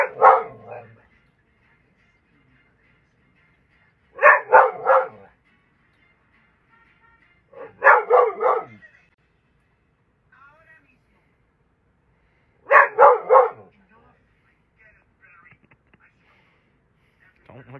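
A dog makes four short, separate bursts of growly, Wookiee-like vocal noise, each about a second long with quiet pauses between them, close to the microphone.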